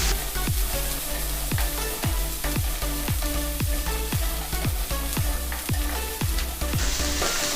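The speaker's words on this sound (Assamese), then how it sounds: "জিৰাৰ গুড়ি আৰু জালুকৰ গুড়ি এতিয়া মই এইখিনি ধুনীয়াকৈ ফ্ৰাই কৰিম" Cumin powder and black pepper powder fry in a pan with hot oil, a loud continuous sizzle broken by regular, rhythmic scraping strokes of a spoon stirring the spices.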